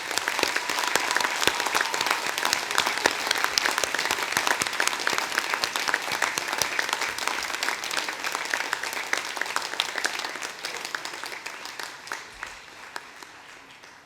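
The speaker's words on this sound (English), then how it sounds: "let's give them a huge round of applause" A large hall audience at an Open University degree ceremony in Torquay applauds with sustained, dense clapping that stays full for most of its length before slowly thinning toward the end.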